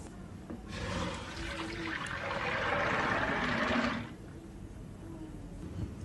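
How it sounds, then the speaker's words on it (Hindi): Soaked chickpeas and their water are poured into a kadhai, making a steady gushing, splashing pour that lasts about three seconds before the sound drops back to quiet room noise. "चनों को साफ पानी समेत एक कढ़ाई में डाल देंगे।"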